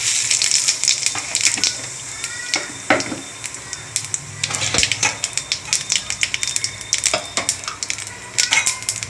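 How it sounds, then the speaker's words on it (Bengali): Cumin seeds tempering in hot oil in a kadai, with a crackling, popping sizzle and sharp spattering bursts scattered over a steady hiss, close and loud, with occasional utensil knocks. "জিরে ফোড়ন দিলাম"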